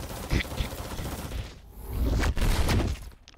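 A Gatling gun attack in the Roblox game Piece Battlegrounds, a flurry of rapid punchy bursts in two waves with a short lull between them, then a sharp cutoff.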